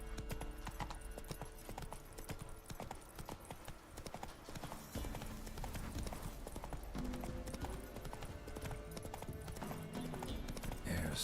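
A horse gallops in The Witcher 3 video game, its hooves pounding in a fast, continuous clip-clop rhythm, up close and steady.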